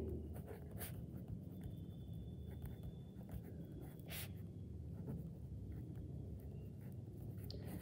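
Writing for a Hindi maths lesson, heard as a soft, continuous scratching of a pen or chalk with a few sharper taps and strokes. It is quiet and close and carries on steadily without any speech.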